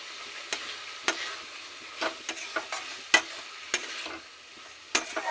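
Boiled banana flower and potato stirred into oily spice paste, a soft continuous sizzle broken by a series of crisp spatula scrapes and taps at irregular intervals, close and without voices.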